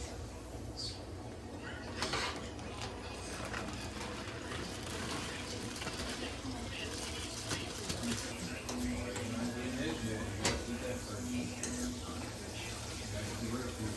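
Diced onions cook in a hot pan with a continuous soft sizzle and crackle that stays even throughout.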